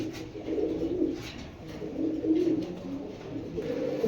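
A pair of silver pigeons coo softly in a low, repeated murmur, several bursts rolling one after another over a faint background hiss.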